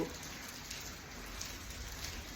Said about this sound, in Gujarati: અત્યારે પણ વરસાદ ચાલુ છે